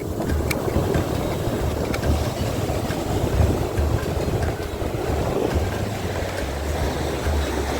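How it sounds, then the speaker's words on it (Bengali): Steady, loud roar of surf crashing and washing continuously at Patuartek sea beach in Cox's Bazar, Bangladesh, a dense rumbling wash of very large waves with no voices. "কত বিশাল এক একটা ঢেউ।"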